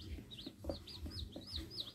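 A free-range flock of organic village chickens with chicks about a week old: repeated soft clucks under a steady run of high, rising peeps from the chicks, fairly quiet and close by.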